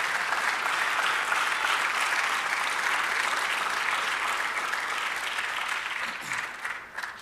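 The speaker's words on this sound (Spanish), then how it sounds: "Eso es lo que al darle el aplauso al Señor." Congregation applause in a church service, a sustained wash of many hands clapping heard alone, fading slightly toward the end.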